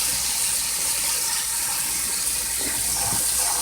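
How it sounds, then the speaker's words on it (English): Dry Great Northern beans are rinsed under running water and shaken, producing a steady close hiss of flowing water with faint rattling and clicking of the beans underneath. "Just give them another rinse and give them a good shake."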